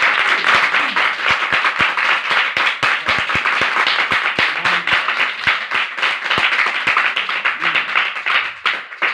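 Loud, dense clapping from a church congregation praising Jesus Christ, sharp individual hand claps standing out in steady rhythm throughout, close and continuous without a break.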